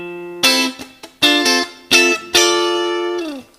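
Clean electric guitar playing chord-solo phrases around a D resolving into C: four bright plucked double-stop and chord attacks, each ringing and decaying, the last held long and fading, played alone and close.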